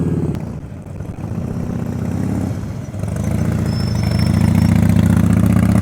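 A motorcycle fitted with a car tire on the rear putters steadily at low speed during slow-speed riding practice, its close engine drone rising slightly in the second half, loud and continuous with no talk.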